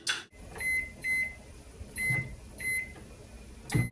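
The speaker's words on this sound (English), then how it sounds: "we are going to put this in the microwave for about 3 to 5 minutes on" Microwave oven running on half power while cooking a single-serving lava cake, a steady low hum with faint repeated beeps and light clicks across the clip, nobody speaking.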